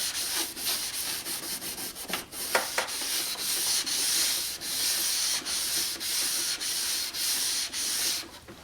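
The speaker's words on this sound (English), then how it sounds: "After wet sanding for a long time" Wet sandpaper scrubs across a plastic car tail light in quick back-and-forth strokes, a close, rhythmic rasping that pauses briefly between passes.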